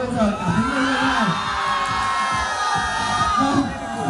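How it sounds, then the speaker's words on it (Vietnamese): A student audience at a school talent show cheers loudly, whooping, shouting and clapping in a continuous dense roar that swells near the end. "tiếng rô hò to hơn và những tiếng vỗ tay cũng to hơn"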